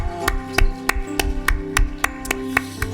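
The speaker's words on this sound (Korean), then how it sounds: "우리 하나님께 영광의 박수를 내드리겠습니다" A church congregation applauds together at a New Year's Eve service, a steady run of loud, evenly spaced claps with no talking.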